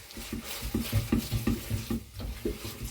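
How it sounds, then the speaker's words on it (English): Curry paste cooking in a pot is stirred with a utensil, giving rhythmic scraping and soft clanks against the pot over a steady sizzle, close and moderately loud. "I'll just keep stirring this paste in for the next couple of minutes"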